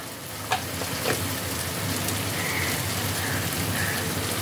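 Ground spices sizzle in hot oil in a pan for paneer bhurji, a loud, steady crackling hiss close by with a couple of soft stirring taps near the start.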